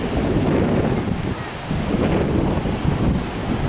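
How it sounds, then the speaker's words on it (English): Steady wind rushes at a waterfront beach in Tasmania, blowing continuously over a few seconds with a brief lull midway and no one talking. "still pretty windy"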